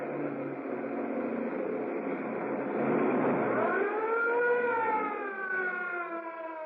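A police car siren wails steadily in a radio drama chase along narrow waterfront streets, loud and sustained, its pitch rising and falling in smooth sweeps toward the end.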